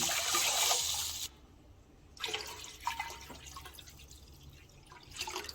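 Water runs and splashes steadily into a cooking pot of mussel soup for about a second, then stops; fainter trickling and clinks follow.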